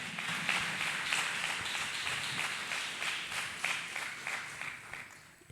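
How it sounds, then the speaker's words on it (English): Church congregation clapping for Jesus in steady, rhythmic applause throughout, a dense fairly close wash of many hands with a faint voice now and then. "Let us keep clapping for Jesus"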